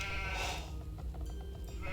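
Sheep bleat in an Age of Empires real-time strategy match, a short wavering animal call near the start followed by quieter in-game ambience.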